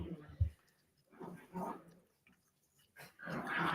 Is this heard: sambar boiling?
no